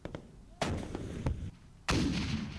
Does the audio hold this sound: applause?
no